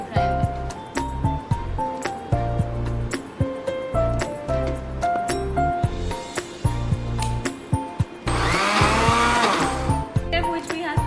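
Electric blender grinding mango with a little sugar, a loud harsh whir that surges in bursts and rises into a dense roar near the end, with clinks and a voice speaking over it.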